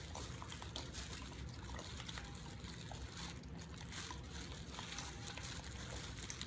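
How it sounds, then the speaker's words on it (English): Worcestershire sauce trickles steadily onto beef in a bowl for a jerky marinade, a faint, continuous liquid pour with no talking. "Go ahead and add our Worcestershire sauce."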